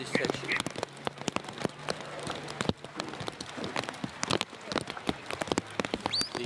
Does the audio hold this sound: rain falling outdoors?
yes